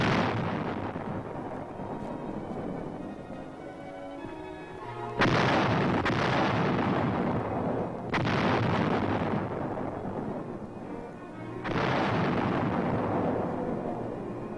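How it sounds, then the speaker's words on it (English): Several 155 mm howitzers fire near the Capitol grounds in Seoul during the Korean War: three heavy booms at spaced intervals, each trailing off into long rumbling echoes over a continuous low roar. "155 howitzers fire a sharp warning at the advancing Chinese"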